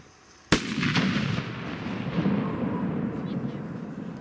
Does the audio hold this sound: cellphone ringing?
no